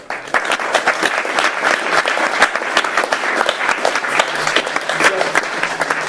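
Sustained audience applause from a meetup crowd at a talk, dense steady clapping that holds loud and even for the whole stretch with no pauses.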